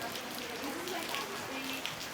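Rain falls steadily in the streets of Seville, a close, continuous patter on surfaces with faint voices and city sounds underneath.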